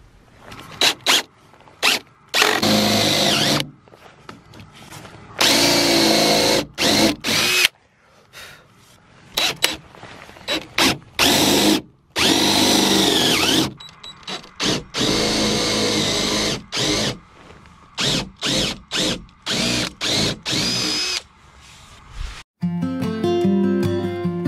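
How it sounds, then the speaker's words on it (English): Power drill with a 7/8 inch Forstner bit boring pilot holes in wood for a raised-bed hoop house, loud repeated whirring bursts of a few seconds each separated by short pauses, alone without talk. "I'm using a 7/8 inch Forstner bit to make our pilot holes."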